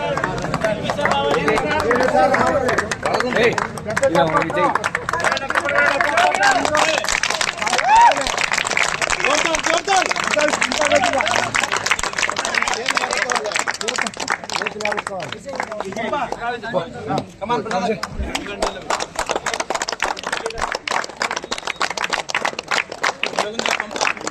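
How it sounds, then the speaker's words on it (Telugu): Dense, continuous clapping from a large crowd at an outdoor felicitation gathering in Holagunda, Kurnool, sustained throughout with voices and chatter mixed in. "క్లాప్స్ కొట్టు క్లాప్స్"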